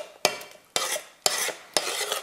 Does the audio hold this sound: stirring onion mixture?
yes